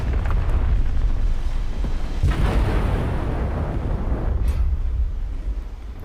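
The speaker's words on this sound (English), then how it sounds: "my bombs completely missed the target" Bombs exploding in the War Thunder Mobile tank game, heard as a loud continuous rumbling blast with a sharper burst around two seconds in and another near four and a half seconds, no talk.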